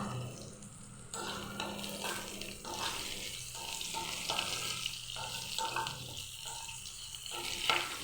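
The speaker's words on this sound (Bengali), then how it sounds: "সামান্য হলুদ দিয়ে আলুটাকে আমি ভেজে নিব।" Potatoes frying with a little turmeric in a pan, a steady sizzle running throughout with scraping stirring strokes and some watery clatter, fairly close and alone without voices.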